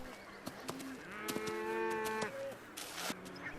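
Cattle moo on open farmland on Islay in the Scottish Hebrides, a long, clear low bellow rising and falling at close range, with other scattered animal calls and farm sounds around it.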